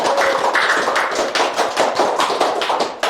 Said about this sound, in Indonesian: Lebih aplaus sekali lagi dong.